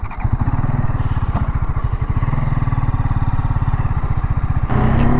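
A TVS Apache RTR 310 motorcycle engine runs with a steady, rapid low throb, loud and close, revving slightly near the end as the ride continues.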